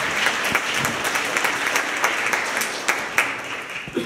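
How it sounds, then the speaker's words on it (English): An audience at a coding program demo day breaks into warm, continuous applause to welcome a guest speaker, with crisp individual claps standing out from the crowd. "Please give him a warm round of applause,"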